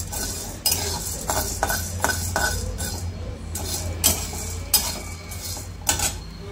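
Dal roasting in a pan for a multigrain kadboli bhajani flour, stirred with a metal spoon that scrapes and clinks against the pan in close, irregular strokes, with no talking.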